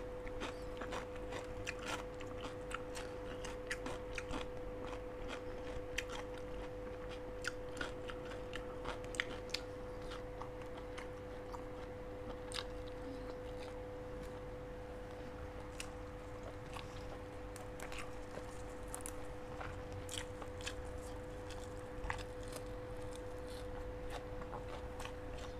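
Someone eating boiled chicken in fish sauce with a raw chili dip, seated on a balcony: faint scattered bites and chewing clicks over a steady low hum, close and continuous for about half a minute, with no talk.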